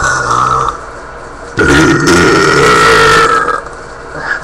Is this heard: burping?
yes